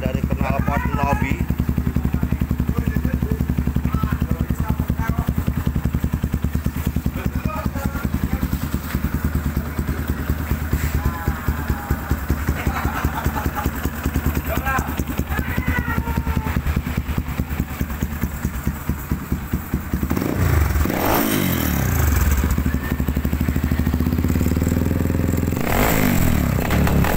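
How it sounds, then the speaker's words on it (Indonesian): A trail-modified Yamaha Scorpio Z motorcycle idles loudly and steadily through an aftermarket Nobi exhaust, then revs up sharply in several bursts near the end, with a voice talking over it. "Nah ini guys, suara dari knalpot nobi."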